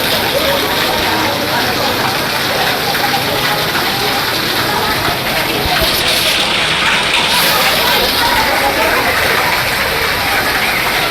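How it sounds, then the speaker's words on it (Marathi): Floodwater from heavy rain rushes over a road near Velhane in Parola taluka, a loud, constant roaring wash that fills the whole clip without letting up. "हे बघा आत्ता ते रुद्र स्वरूप बघा पाण्याचं"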